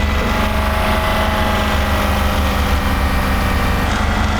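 BMW and Lexus V8 engines run without oil, held steady at 3,000 RPM, give a loud continuous droning roar with no breaks and no talking.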